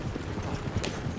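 A horse gallops in Red Dead Redemption 2, its hooves clip-clopping in a quick, steady rhythm that sounds close, set against a dense background wash.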